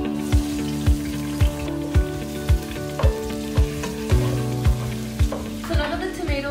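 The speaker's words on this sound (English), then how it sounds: "add these three vegetables and stir until they're thoroughly fried" Tomatoes, onions and garlic fry in a pot for seafood soup, a bright steady sizzle punctuated by regular rhythmic thumps of a spoon stirring about twice a second, close and clear with no talking.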